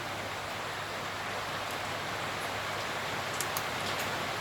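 Heavy rain pours steadily in New Zealand, a dense, even hiss that holds at the same loudness throughout with no break.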